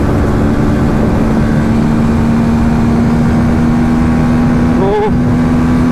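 A TVS Apache RTR 310 motorcycle engine holds a steady, loud drone while accelerating in sixth gear, with strong wind rush over it and a brief rise in pitch near the end.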